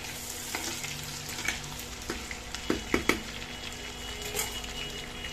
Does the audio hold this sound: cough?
no